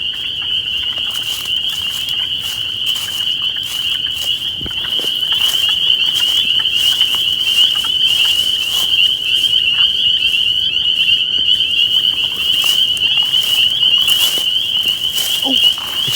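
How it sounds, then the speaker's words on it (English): A loud, steady chorus of spring peepers with wood frogs mixed in, a continuous high shrill trill sustained throughout without a break, forming a dense nighttime wetland din. "Wood frogs mixed in with the spring peepers."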